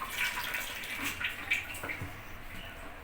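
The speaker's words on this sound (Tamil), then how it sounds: "தண்ணி ஊற்றி" Water pours into a wheat flour batter for bottle gourd adai, a South Indian dish, as it is mixed. A steady, soft splashing and sloshing runs close and continuous throughout, with no voices.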